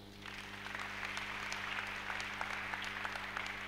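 Quiet, distant applause rises from a church congregation during a sermon and holds steady, with a low electrical hum underneath.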